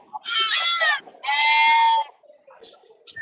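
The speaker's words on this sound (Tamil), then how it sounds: "அருமையான கொடியாடுகள்" Kodi goats at the Ettayapuram Friday goat market bleat loudly nearby, two long wavering calls back to back, followed by quieter background noise.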